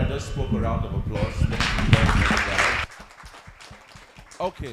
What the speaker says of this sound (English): let's give everyone that just spoke a round of applause